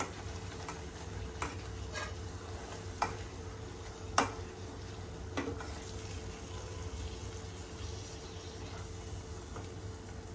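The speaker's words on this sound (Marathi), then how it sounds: "छान परतून घेते गॅस कमी ठेवला आहे" Mutton kheema with curd sautés gently in a pan over a low flame, giving a quiet steady sizzle with a few scattered utensil scrapes and taps, no voices.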